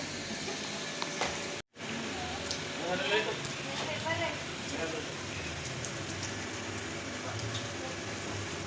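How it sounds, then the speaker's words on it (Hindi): Steady rain patters on surfaces in a continuous hiss, with faint voices and occasional drips audible underneath. "और बारिश अपनी जगह पे है।"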